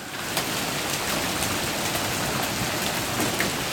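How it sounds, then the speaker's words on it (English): Steady, dense patter of hail and heavy rain pounding down during a thunderstorm, a continuous loud hiss with scattered sharper impacts, no voices. "The hail still coming down."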